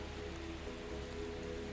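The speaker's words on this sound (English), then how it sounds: "You can imagine now that the sound changes again, a softer drizzle, the kind that wraps the air in a gentle mist." Steady rain falls as a dense, even wash of drops in a sleep hypnosis soundscape, continuous and soft without pauses or voices.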